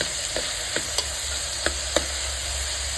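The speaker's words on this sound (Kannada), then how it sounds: "ಟೊಮೊಟೊ ಹಾಕ್ಬಿಟ್ಟು ಸ್ವಲ್ಪ ಆಲೂಗೆಡ್ಡೆ ಟೊಮೊಟೊ ಮೆತ್ತಗಾಗಿ ಚೆನ್ನಾಗಿ ಬೇಯಬೇಕು ಎಣ್ಣೆಲೇನೆ" Tomatoes and potatoes fry in oil for a millet aloo pulao, a steady low sizzle with a few soft clicks of stirring, close and alone with no talk.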